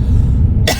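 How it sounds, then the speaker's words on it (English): A woman in a van gives one short, close cough at the end after a stretch of low rumbling road noise. "I'm so sorry to be coughing in your ear."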